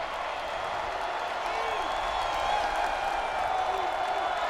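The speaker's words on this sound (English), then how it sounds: "Homecoming crowd here at Doak Campbell, getting their defense fired up" Homecoming football crowd at Doak Campbell Stadium for Florida State against UMass makes a steady, distant roar of cheering and clapping, with a few whistles cutting through.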